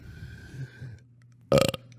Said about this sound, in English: Can you guys belch on command?